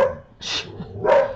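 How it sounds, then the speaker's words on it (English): A dog barks twice, close and loud, with two sharp yelping bursts about half a second apart. "Excuse my dog."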